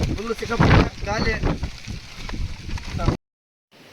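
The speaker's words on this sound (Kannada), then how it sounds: "ಫುಲ್ಲು ಸಿಕ್ಕಾಪಟ್ಟೆ ಗಾಳಿ" Strong outdoor wind buffets the microphone in loud, continuous low rumbling gusts for about three seconds, with a voice partly audible beneath it, before the sound cuts out abruptly.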